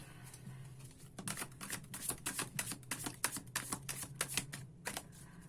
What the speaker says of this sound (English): as I shuffle again